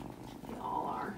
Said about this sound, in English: Oh, you're a purr box.